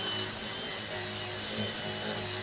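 Hand sanding with 120-grit paper on a 1956 Chevy body panel, a steady continuous abrasive rasping that fills the whole stretch at close range with no pauses and no voices.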